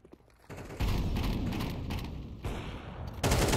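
Rapid AK rifle bursts in Counter-Strike during a professional match, loud and dense, with sustained gunfire from just under a second onward and a fresh burst near the end.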